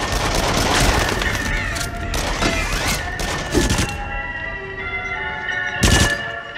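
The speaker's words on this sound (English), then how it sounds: "Machine gun. Nice." Rapid gunfire bursts from a machine gun in Rush of Blood VR, a horror rollercoaster shooter on PS5, loud and dense through the first few seconds, then a final short burst near the end amid game noise.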